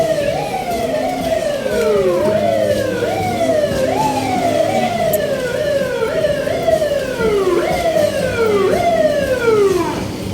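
A police car siren wails in the street in Quiapo, Manila, loud and close, its rising-and-falling yelp repeating steadily over low traffic rumble for about ten seconds, with no one talking.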